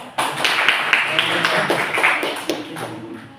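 Clapping in a fourth-grade primary school class, a run of sharp individual hand claps over a lively room, with voices talking and chattering underneath throughout.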